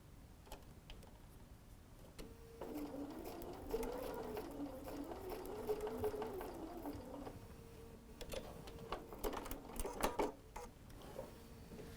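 A sewing machine stitches a quilt seam at a scant quarter-inch allowance, running in a steady rapid whir for several seconds after a few clicks, then stopping with scattered mechanical ticks and taps, all fairly quiet and close.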